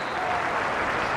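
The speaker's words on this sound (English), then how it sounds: "an appreciative crowd" Steady applause from the crowd at a Celtic v Livingston football match, a dense wash of clapping spread evenly across the stadium, filling a brief moment without speech.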